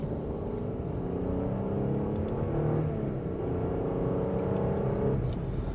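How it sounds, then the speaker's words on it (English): 2026 Audi A6 Premium Plus sedan in dynamic mode, second gear, pulling away with a muffled, steady engine hum that rises in pitch through the gear and settles, heard from inside the cabin with no talking. "And a mild acceleration, we can easily get up to speed."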